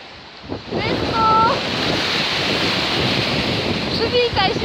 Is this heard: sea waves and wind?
yes